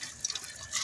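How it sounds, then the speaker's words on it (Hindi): Water coming to a boil in a large pot (deg) while dal for dal chawal cooks, a soft continuous bubbling and dripping texture, faint and steady throughout the short stretch with no talking. "ये देखिए पानी को उबाला आ रहा है"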